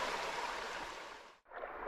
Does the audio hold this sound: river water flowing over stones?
yes